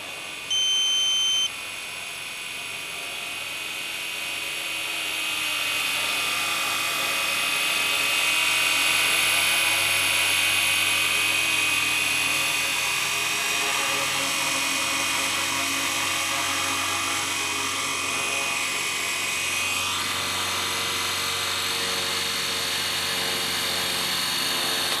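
An RC SA315B scale helicopter built from a Ken Luo 230S kit, with carbon fibre blades, flies with a sustained whirring buzz that swells louder and slowly shifts pitch as it passes.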